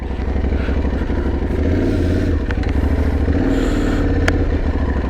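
An Aprilia Tuareg 660 motorcycle rides a narrow single-track trail, its engine a loud, close, steady rumbling drone with clattering and scraping from the ground over it, no talk.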